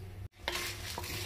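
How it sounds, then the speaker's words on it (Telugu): Dried red chillies fry in oil in a pan for a gongura chutney, giving a steady broadband sizzle that cuts out briefly, then returns louder with a short burst as the chillies crackle. "వేగినాయండి మిరపకాయలు"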